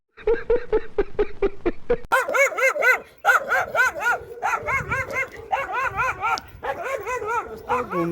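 A dog barks repeatedly and loudly up close in a green hillside setting, a run of sharp rhythmic barks giving way to higher yelping, whining barks, with a voice briefly under them.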